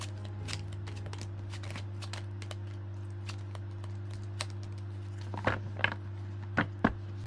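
Reading cards shuffled and pulled, quiet papery flicks and taps scattered over a steady low hum, with a few sharper slaps of cards near the end.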